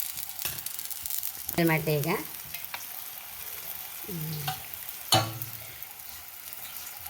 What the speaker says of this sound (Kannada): ಇದನ್ನೀಗ ದೋಸೆ ಕಲ್ಲ ಮೇಲೆ ಹಾಕೊಂಬ